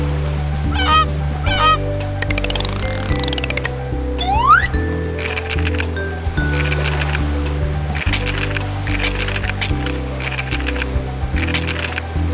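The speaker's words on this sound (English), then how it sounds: "Goose." In a bird puzzle game, a cartoon goose gives a run of loud, clear honks over a steady, looping musical backing, mixed with squishy clicks and a rising whistle-like sweep.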